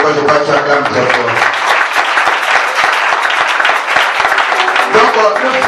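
A church congregation applauds loudly and steadily, a close, dense burst of clapping that lasts throughout without a break.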